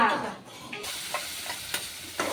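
Whole and ground red masala spices for a matki usal curry hit hot oil with a sudden sizzle, followed by a steady frying hiss and a few sharp stirring clinks; nobody talks.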